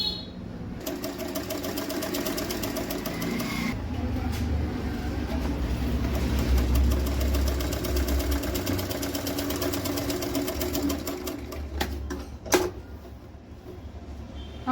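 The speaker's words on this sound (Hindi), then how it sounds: "साइड से इसे घुमा के सिलाई कर लेंगे स्लीव्स को।" A sewing machine runs steadily while stitching kurta sleeves, a continuous motor hum with rapid needle chatter close up, broken by a short pause and a few light clicks near the end.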